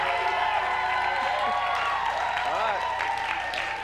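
Studio audience at a Christian talk show applauding and cheering steadily throughout, a dense wash of clapping with a voice speaking over it.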